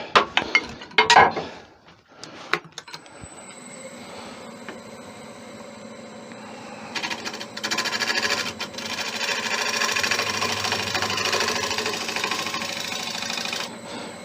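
A gouge skims a wooden bowl spinning on a lathe, starting with a few close knocks and clatters, then settling into a steady whirring hum of light, continuous cutting that grows slightly louder and lasts for more than ten seconds.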